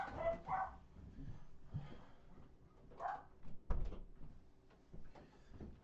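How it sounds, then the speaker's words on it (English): Several dogs bark in short, scattered bursts at moderate distance, mixed with thuds like a door or cupboard, all fairly faint in a quiet room. "Listen to those dogs."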